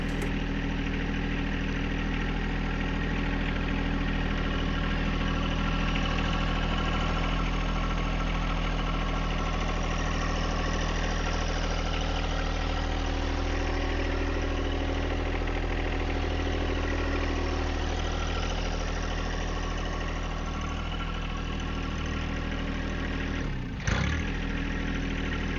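A John Deere 1025R sub-compact tractor engine idles steadily in a yard, a continuous close, loud diesel rumble with a constant throb and a brief knock near the end.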